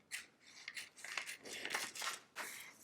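Scissors snip through a paper sewing pattern piece for a beginner's belt project, a run of close, crisp cutting strokes with papery rustles between them.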